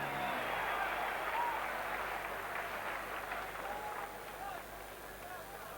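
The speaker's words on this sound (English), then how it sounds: "A round of applause, please, for John Michael" A boxing arena crowd applauds a fighter from San Antonio, Texas after his ring introduction, steady distant clapping mixed with crowd murmur that slowly fades, with no clear speech.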